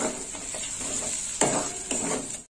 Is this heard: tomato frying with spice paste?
yes